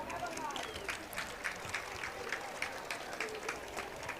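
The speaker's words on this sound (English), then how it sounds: "Let's give him a round of applause." Distant stadium crowd applauding steadily for an injured college football player being helped off the field at a Hampton versus NC A&T game, a faint, even patter of clapping throughout.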